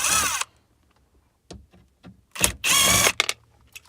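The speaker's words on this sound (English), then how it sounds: "Now all I got to do is take out these screws" A power drill backs screws out of a car head unit during radio removal in a Dodge, with several short whirring bursts separated by silence and clicks, the longest near the end.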